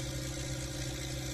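A modified HMT 3522 tractor engine runs steadily at close range, a dense, continuous mechanical drone with a low throbbing hum and no voices.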